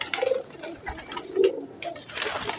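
Female pigeons of Teddy, Golden and Kamgar breeds coo softly in a loft, several low throaty coos scattered among rustling and faint background bird noise.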